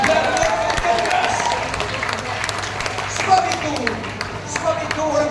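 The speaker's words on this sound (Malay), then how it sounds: "berikan tepukan kepada semua menteri-menteri kita yang bekerja keras" Audience applause for government ministers at an evening gathering in Permas Jaya, a dense, steady wash of clapping and crowd noise that holds for the whole stretch with scattered louder claps.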